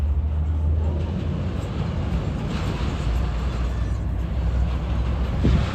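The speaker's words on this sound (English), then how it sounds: "The noise you hear is it's cars and trucks going over the drawbridge." Steady, loud rumble of cars and trucks crossing a drawbridge in Hollywood, Florida, a continuous broadband roar with low-end thumps and no clear gaps between vehicles.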